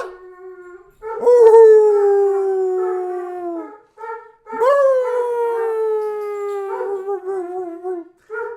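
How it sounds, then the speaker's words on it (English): A hound dog howls and bays in two long, drawn-out cries, each sliding downward in pitch, with short yips and whimpers between them, loud and close with no one speaking. "That's my hound dog. That's my hound. Do you hear him?"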